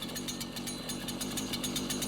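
A chainsaw runs continuously, its engine buzzing with a fast pulsing rhythm, steady and fairly loud with no voices over it.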